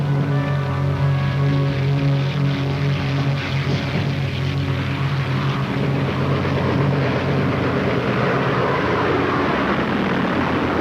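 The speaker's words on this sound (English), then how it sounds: "The attacking aircraft swept aside the few fighters the Japanese carriers had left and savaged Admiral Ozawa's fleet" Attacking warplanes in a historical film about the Battle of Leyte Gulf, striking a Japanese carrier fleet: a loud, steady propeller-engine drone with rough noise, continuous throughout.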